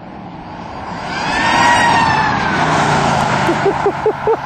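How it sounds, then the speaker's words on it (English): Old ambulance siren mounted on a twin-turbo 1980 GMC stepside truck, a rising wail over engine rumble, loud and building, ending with a few sharp engine revs against a rev limiter. "That's my old ambulance siren."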